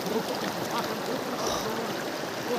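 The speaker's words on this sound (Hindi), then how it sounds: "अभी ऊपर से आ रहा है पानी, नेचुरल पानी आ रहा है" Natural water flows down from above at a rural homestay, a steady close splashing rush like a small stream or spout that continues unbroken with no talk.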